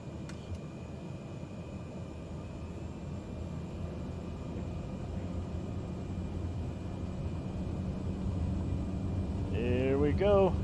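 A light aircraft engine in Microsoft Flight Simulator 2020 rising from a low hum to a steadily louder drone, with a voice speaking briefly near the end.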